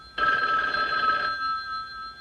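A landline telephone bell rings loudly in a 1965 film, one strong burst of metallic ringing that cuts off after about a second and fades into quiet room tone.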